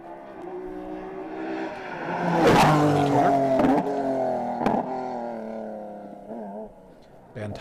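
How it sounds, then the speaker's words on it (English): A Citroen C2 R5 rally car drives a stage of the Galway International Rally, its engine revving and swelling through gear changes, loudest midway and passing close with sharp bursts, under a commentator's voice. "with Neil Shanks co-driving in their C2 R5 Citroen"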